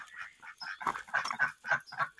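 Two ducks quacking back and forth in short, nasal bursts, close by and fairly loud, with no talking.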